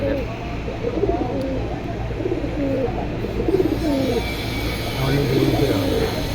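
A male pigeon coos in repeated soft, throaty rolls close by, the low calls rising and falling in a loose rhythm over a steady background hum.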